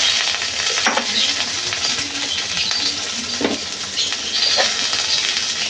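Chopped tomatoes frying in oil with onions and spices give a steady close sizzle, punctuated by a few sharp metallic taps and scrapes of a spoon on the pan.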